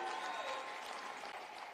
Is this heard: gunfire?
no